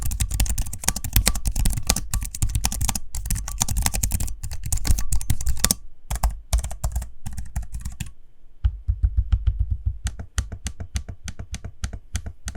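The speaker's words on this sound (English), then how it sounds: "Here's a little sample of the keyboard in use so you can hear what it sounds like for yourself." Keys clacking steadily on a gaming laptop keyboard, a fast close run of typing that pauses briefly and then continues in lighter bursts, with no voices.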